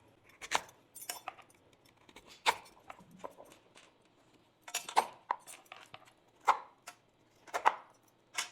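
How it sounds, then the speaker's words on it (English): Knife chopping a tough rutabaga on a cutting board, a dozen or so sharp, irregular thunks and clicks spaced a second or less apart, close and fairly quiet in a home kitchen. "And then the rutabaga, I love saying that word. It's a little bit tougher to cut."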